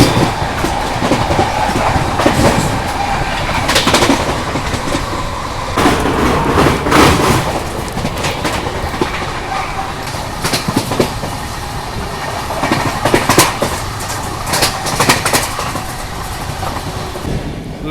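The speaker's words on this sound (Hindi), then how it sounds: "अभी अपने यहाँ पे हमसफर एक्सप्रेस स्किप करने वाली है खुर्जा जंक्शन रेलवे स्टेशन को फ्लैट 130 पर।" A Humsafar Express train races at around 130 km/h through Khurja Junction station, with a continuous loud rush and rhythmic clickety-clack of wheels over rail joints, heard close from on board, no voices.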